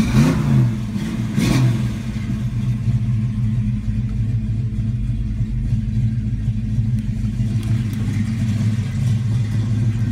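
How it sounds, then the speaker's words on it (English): A 1970 Ford Mustang engine starts and settles into a steady, loud, close running rumble, with a surge of revving near the start and a continuous low drone throughout. "Car fires right up."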